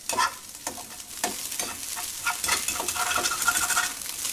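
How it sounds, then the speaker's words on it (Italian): Scrambled eggs in a pan, stirred and scraped with a fork over a steady sizzle, with repeated metallic scratches and clicks coming close and fairly loud. "Non graffiate le padelle con la forchetta come faccio io"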